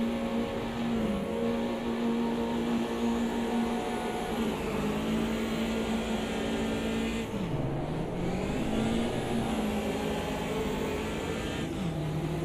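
A race car engine in the Automobilista 2 sim racing game at a clutch start. It gives a continuous loud buzzing drone that dips and climbs in pitch as the revs change, with no talk over it.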